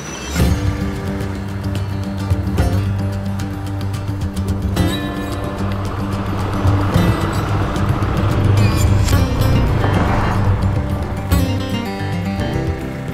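A car drives along a Konkan road toward Diveagar beach, its engine giving a steady, loud hum with low droning tones, shifting slightly in pitch as it moves.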